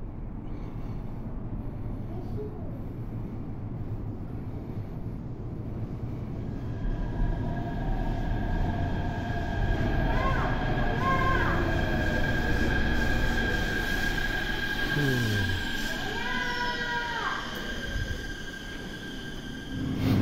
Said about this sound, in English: A train is arriving on the track number 2.